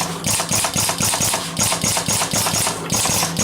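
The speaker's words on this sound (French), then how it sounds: "dans le fond, on entend de nouveau le compresseur" A steady mechanical hum with a rapid, repetitive clatter from an air compressor chugging away at a distance beside an organ-book cardboard punching machine, continuous throughout.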